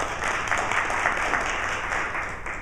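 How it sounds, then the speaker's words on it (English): Audience applause at a Mississauga Board of Trade business event, steady dense clapping from a crowd sustained throughout without pause. "Give them a round of applause too."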